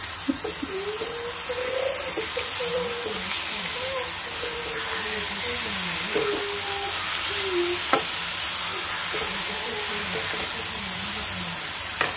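Grated beetroot sizzles and fries steadily in a pan, with a continuous hiss broken by faint stirring scrapes, while a voice talks quietly over it throughout.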